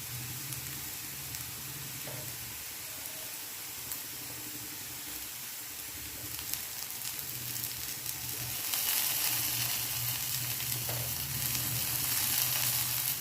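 Chopped onion frying in oil in a pan for tempered rice (phodnicha bhaat), a close, continuous crackling sizzle that grows louder and hissier toward the end, with a few faint utensil taps and no talking.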